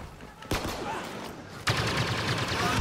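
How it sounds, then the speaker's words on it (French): Two loud, close pistol shots crack in Star Wars Battlefront, each bursting into a sustained roar of game battle noise, about a second apart. "je vais l'avoir au pistolet l'éclaireur"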